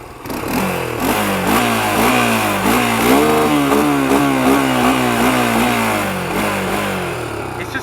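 A 1993 Honda 300EX ATV engine revs repeatedly up and down, a loud, close, buzzing mid-range drone with rhythmic rises in pitch, heard alone for several seconds.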